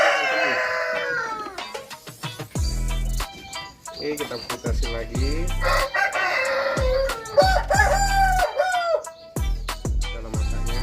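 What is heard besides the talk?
sick Bangkok rooster crowing and clucking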